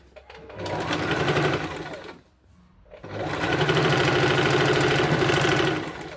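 A sewing machine stitches chudithar pant pieces together in two fast, loud runs of rhythmic needle chatter, separated by a brief pause, with no talk.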